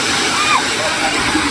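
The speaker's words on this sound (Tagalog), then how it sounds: "lulusubin natin yung tubig na yan na bumubuhos" Water pours down at the Atlantis waterpark in Dubai as a loud, steady, close rushing splash with no break, and a voice may be faintly present beneath it.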